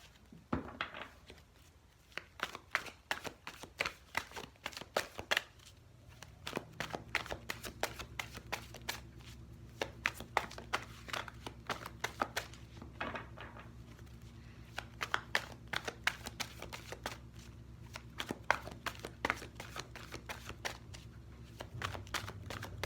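Tarot cards are shuffled close up in a quiet room, giving rapid irregular riffling and slapping clicks over about twenty seconds, with a steady low hum joining partway through.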